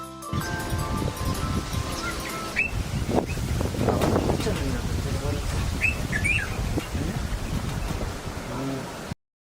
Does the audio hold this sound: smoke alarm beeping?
no